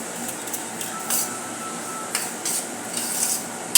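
Peanut powder being stirred into a hot mixture for sesame ladoos, with soft scraping and spoon clinks against the pan in irregular strokes, close and moderately loud.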